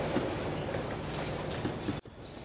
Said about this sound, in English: The tram was slowing down.